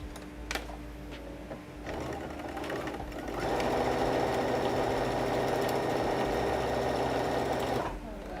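A sewing machine stitches the side seams of a slip dress, starting with short bursts and then settling into a fast, loud continuous run before stopping abruptly near the end.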